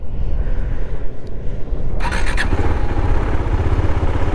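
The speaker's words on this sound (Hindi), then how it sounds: "so guys finally bike start तो हो गई है" A KTM motorcycle engine cranks and catches after a new battery is fitted, then settles into a loud, close, steady idle rumble with a brief high whine at the start, no voices over it.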